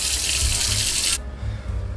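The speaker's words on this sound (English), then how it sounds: "First off, let's run some water." Tap water runs into a sink in a loud, close, steady splashing stream that stops abruptly partway through, leaving low background rumble.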